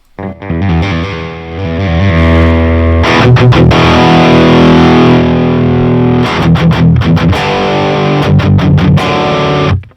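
A heavily saturated metal guitar tone through the Audio Assault Emperor amp sim, with loud sustained distorted chords broken by sharp palm-muted chugs and stops, played alone at high volume.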